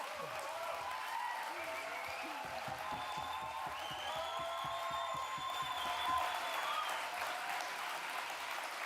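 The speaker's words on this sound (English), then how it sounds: "A warm applause indeed." Audience applause in a hall after a keynote speech at an Indigenous Liberation Day event, a steady wash of many hands clapping with a few distinct rhythmic claps and some cheering mixed in, fairly distant and sustained.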